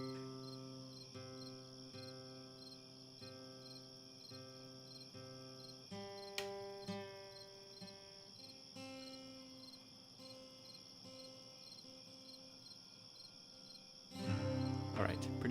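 Crickets chirping in a steady, high, continuous trill with evenly spaced pulses, fairly quiet and sustained, ending with a louder muffled burst of noise.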